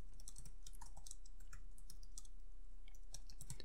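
A command is typed into a terminal on a computer keyboard, a close run of light, uneven key clicks over a steady low hum.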